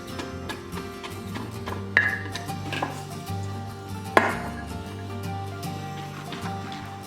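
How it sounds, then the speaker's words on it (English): Shredded cabbage is packed and pressed down into jars for sauerkraut, producing a few dull thumps and glassy knocks, two of them sharper, over a steady tonal hum in the background. "what I like to do as I go is really smush down the cabbage"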